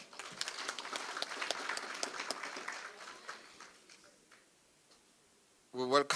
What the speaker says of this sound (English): a round of applause once more